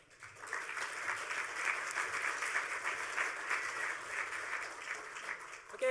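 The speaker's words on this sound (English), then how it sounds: "let's give these guys a round of applause" Attendees at a hacker conference talk on open source hardware give a round of applause, a soft, steady spread of clapping from a room-sized audience, fading in at the start and holding evenly.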